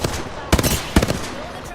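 Video-game gunfire comes in two short, sharp bursts of automatic shots, close and loud, over a steady background of in-game ambience.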